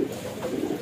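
Pigeon cooing close by, a soft low throaty coo repeated twice within under a second, steady and moderately loud with no talk.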